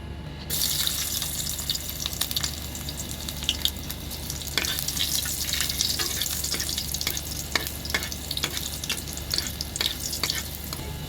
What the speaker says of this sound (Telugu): తాలింపు పెడుతున్నాను పప్పు